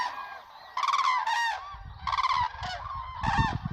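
Cranes calling while circling in the dark after being frightened by fireworks, a series of loud, harsh honking calls in repeated bursts, close and overlapping, with a low rumble underneath.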